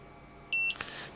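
A short electronic beep rings out alone from a WCH-MCU-DL standalone microcontroller programmer after download, a single steady high tone lasting about a fifth of a second, followed by a faint click.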